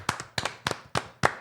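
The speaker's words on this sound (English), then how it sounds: "Let's get a round of applause for Saquon." Five quick bursts of hand clapping, each a double clap, sound close and fairly quiet in a podcast room, a small round of applause with no talking over it.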